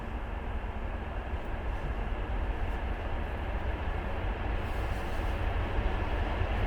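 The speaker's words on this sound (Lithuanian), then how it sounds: "Jau trečias traukinys šiandien." A train rumbles past nearby in a steady, dense roar with a constant broadband wash and low-end rumble, no voices, heard from near an old Evangelical Lutheran cemetery.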